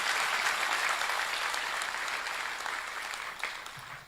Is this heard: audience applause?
yes